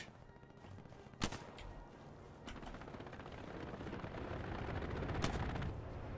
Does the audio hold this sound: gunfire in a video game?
yes